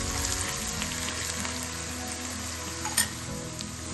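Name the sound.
asafoetida, cumin and garlic sautéing in a pan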